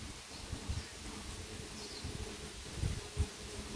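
A wasp or bee buzzing near a forest trail in Hong Kong, a faint, steady droning hum that rises and falls slightly as it moves, over quiet outdoor background rustle.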